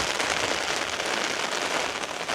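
Strong gusting wind drives heavy rain during a storm on the New South Wales coast near flooding rivers, a loud, continuous dense roar of wind and downpour filling the scene with no voices.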